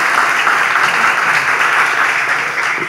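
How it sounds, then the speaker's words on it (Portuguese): Audience applause fills the whole stretch at an interview-style talk show, a dense, steady clapping from a crowd that stays loud and even throughout. "Boa, pode aplaudir."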